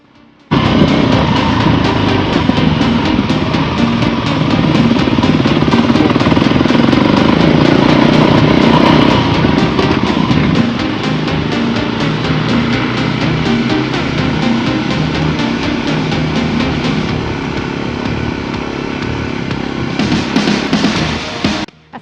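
A Voge Rally 300 motorcycle ridden off-road on dirt terrain, its engine droning loud and steady close by, easing to a lower note partway through before rising again near the end.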